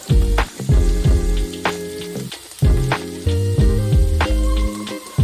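Potato fritters frying in hot oil, a loud close sizzle with bubbling crackle, broken by a few clattering knocks and stirring noises.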